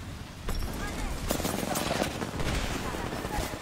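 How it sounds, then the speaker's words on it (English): Bursts of gunfire from enemies in a video game crackle behind a player's speech, with sharp repeated shots and loud rattling volleys over steady game noise. "Oh, two of them are shooting at me."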